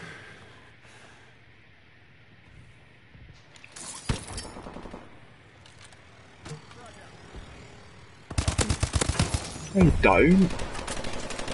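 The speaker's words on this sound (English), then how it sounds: "Who's he shooting at?" Call of Duty: Advanced Warfare gunfire builds from sparse single shots and clatter to a loud, rapid machine-gun burst toward the end, with someone speaking briefly in the middle.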